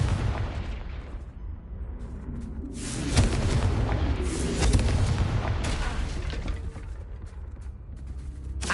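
A Confringo explosion spell in Hogwarts Legacy bursts with deep, rumbling booms and crackling blasts, building to a heavy swell midway and then rolling on as a continuous loud, dense din.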